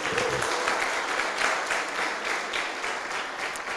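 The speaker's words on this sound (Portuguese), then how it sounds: "dê um forte aplauso em nome de Jesus" Church congregation breaking into strong, sustained applause after a call to clap during a sermon; dense, loud clapping with no gaps across the whole stretch.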